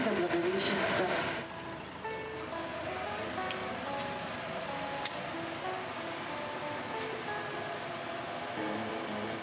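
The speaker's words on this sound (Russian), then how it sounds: "Поезд прибывает в городок Белогорск." A train pulls into the small Russian town of Belogorsk in the Amur region, with a continuous low rumble and rolling clatter of the railcars throughout, fairly steady and moderately loud, easing slightly after the first couple of seconds.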